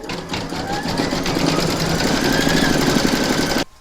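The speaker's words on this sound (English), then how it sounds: "You're now going to pop that into your machine and stitch round number 3 to secure it." An embroidery machine stitches fabric held in a hoop, a loud, fast, even mechanical whirring with rapid needle pulses that runs steadily and then stops abruptly near the end.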